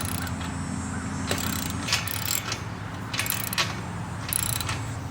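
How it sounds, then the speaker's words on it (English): Ratcheting and metallic clicking from bolts being tightened on the hinges of a metal gate set between wooden posts, with steady mechanical clatter and a few brighter clicks near the microphone. "then I'm going to go ahead and tighten these bolts on the hinges"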